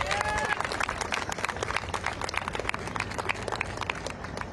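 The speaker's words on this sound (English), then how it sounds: "So a round of applause for this speaker." A crowd at a student protest in Washington, DC, applauds a speaker with dense, continuous clapping that stays loud throughout, with a few raised voices briefly audible at the start.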